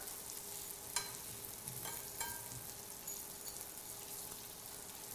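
Chicken cutlets for chicken Marsala sizzle steadily in a hot pan, with a few soft clacks as pieces are turned over; a constant close frying hiss with no talking.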